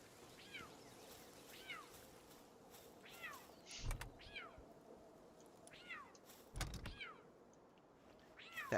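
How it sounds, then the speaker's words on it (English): A cat creature in the video game Palworld meows repeatedly, about six strained, raspy mews spaced a second or so apart over a low background hum, with a couple of dull thumps in between. "That cat sounds like he's got cat scratch fever."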